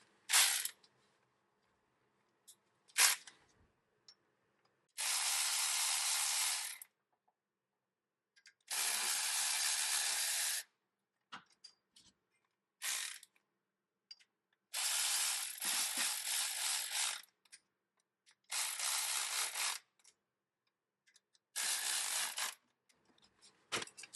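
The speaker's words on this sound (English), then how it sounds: "I am going to use my cordless ratchet to run these bolts down" Cordless ratchet running down oil filter housing bolts on a 2006 Honda Odyssey EX-L, a series of loud buzzing whirrs lasting one to two seconds each, separated by quiet pauses and a few clicks, close up.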